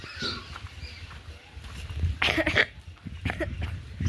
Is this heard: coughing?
yes